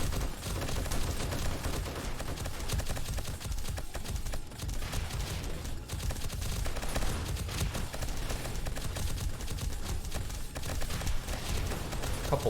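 Frag rocket explosions and gunfire in the video game 7 Days to Die, a dense, continuous barrage of rapid shots and booming blasts with heavy low rumble, steady and loud throughout.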